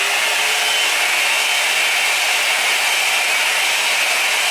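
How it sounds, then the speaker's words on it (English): A hair dryer blows hair on a wig, a loud, steady, airy whoosh that holds constant without pause, close and with no speech. "Next, blow dry."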